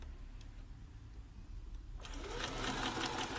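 A Bernina B350 domestic sewing machine runs quietly at first, then speeds up into a fast, smooth, steady stitching whir for the last part, close up with no voices.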